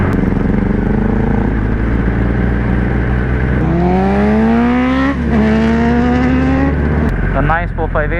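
A Ferrari 458 supercar drives by on an airstrip road. It comes in with a loud engine note that rises through the gears, then roars past up close and fades away, with another rising rev at the end.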